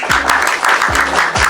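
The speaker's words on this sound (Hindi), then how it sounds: "जोरदार तालियां" Audience applause, added as a celebratory cue during a casual family podcast introduction, rings out as a steady dense clatter with a rhythmic low thumping beat underneath, for about a second and a half.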